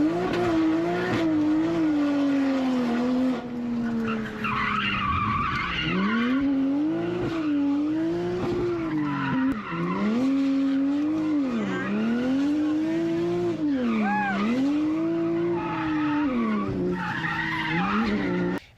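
Drift car on a track at Toronto Motorsports Park, a loud sustained tire squeal with a wavering pitch as the engine revs rise and fall through long slides, close and continuous.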